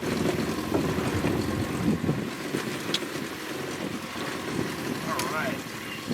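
A Lund boat with a new 14-inch stainless steel prop runs across open water, a steady motor drone buried under heavy wind buffeting and splashing, with people talking nearby.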